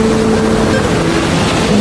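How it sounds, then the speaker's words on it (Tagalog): Water churns steadily around a sailing yacht at sea off Oshima Island, mixed with a loud continuous motor drone that fills the whole moment without a break and with no voices. "Nakaupo ka lang sa edge ng yate habang pinapanood ang alon ng tubig."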